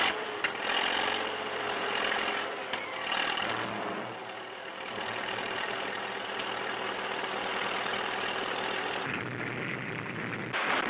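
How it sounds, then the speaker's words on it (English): An old newsreel tank engine grinds against a roadblock of heavy logs, heard as a dense, steady engine roar mixed with hiss and static, with a slight dip and swell in loudness and no talking. "Now a tank driver pits the power of his vehicle against the efficiency of the engineers."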